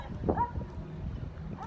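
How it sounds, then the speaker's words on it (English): A police dog at a standoff with a knife-armed man outside a Ranch and Home store gives a short bark or two up close, with voices and background noise around it. "Looks like they're putting the dog away now."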